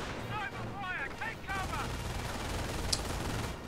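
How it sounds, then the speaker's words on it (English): Machine gun fire from a Company of Heroes battle, dense bursts of shots with a voice talking over them and a faint background. "that machine gun is just continuing to be super annoying and just suppressing everybody in front there"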